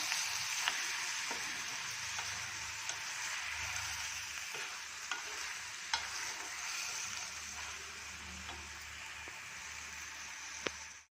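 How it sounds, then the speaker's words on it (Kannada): Onion, tomato and brinjal fry softly in a pan for vangibath, a continuous low sizzle with scattered faint clicks of stirring throughout, no voices. "ಇದೆಲ್ಲ ಮೆತ್ತಗೆ ಫ್ರೈ ಆಗಲಿ"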